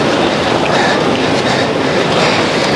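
A train running past on a railway line, loud and near, with a dense unbroken roar of wheels and carriages and a faint clatter through it; no one speaks.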